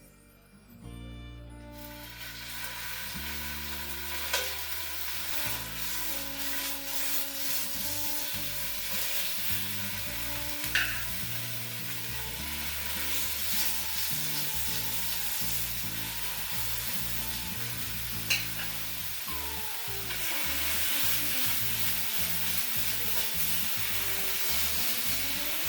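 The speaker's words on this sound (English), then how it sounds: "The skillet is hot. I'm going to add the tomahawks." Venison tomahawk steaks sizzle loudly in a hot skillet, a dense continuous frying hiss with occasional pops, under steady background music.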